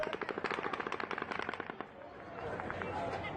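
Rapid bursts of automatic gunfire fired during the mass shooting at the Route 91 Harvest country music festival crackle in a fast, steady rhythm for under two seconds, then give way to voices and crowd noise.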